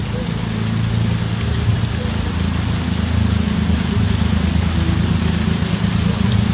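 Steady rain falls over a rural village on a late afternoon, a continuous even hiss with a low rumbling undertone throughout.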